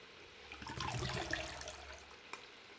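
Yakhni stock water poured from a glass while measuring out three cups for mutton yakhni pulao, a splashing, trickling pour rising and fading over a couple of seconds, close by with no talk.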